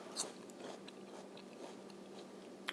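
Raw, crunchy vegetable with a sweet, pear-like texture being bitten and chewed up close, a sharp crunch at the start followed by quieter repeated chewing and another crisp bite near the end.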